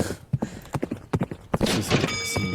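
Horses gallop in a horse race in an MTA multiplayer video game. Rapid, uneven hoof clip-clops come up close and then give way to a denser rush of racing noise.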